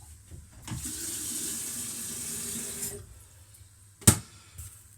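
A kitchen tap runs water into a kettle for a couple of seconds, a close steady splashing stream that stops, then a single sharp clunk follows.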